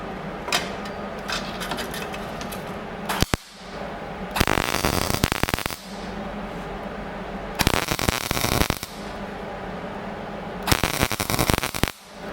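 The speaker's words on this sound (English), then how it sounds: "I'm going to weld this up kind of slow." Welding a formed medallion patch on a Case 830 tractor, heard as crackling, popping bursts of several seconds each, separated by quieter pauses, loud and close with no voices.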